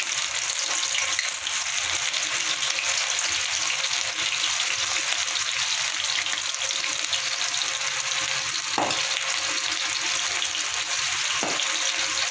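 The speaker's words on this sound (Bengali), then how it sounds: "ফুলকপিগুলো আমি ভেজে নেব লাল করে।" Cauliflower pieces frying in hot oil in a wok, a loud, continuous, close-up hiss of sizzling with a couple of brief clicks near the end.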